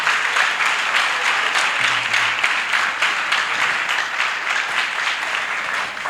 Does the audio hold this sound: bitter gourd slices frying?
no